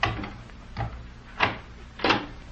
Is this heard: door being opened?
yes